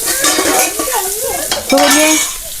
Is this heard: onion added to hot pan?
yes